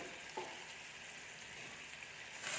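Coconut milk poured into a pot of pork leg curry, giving a soft steady sizzle and bubbling at low volume, with a brief stir sound partway through.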